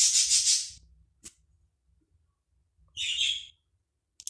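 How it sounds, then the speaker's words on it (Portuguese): A small bird chirps in two bright bursts of rapid high tweets near the start and again midway, with a quick faint chirp between and another at the end, over a quiet low background hum. "passarinho"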